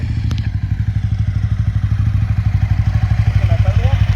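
A 2004 Aprilia RSV 1000 Factory V-twin idles close by, a deep, loud, lumpy throb with a steady pulsing rhythm, with faint voices and a light metallic clink early on.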